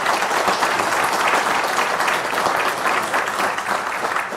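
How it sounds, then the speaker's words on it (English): A crowd applauds steadily and loudly, a dense wash of clapping that carries on throughout without pause. "Another round of applause for her."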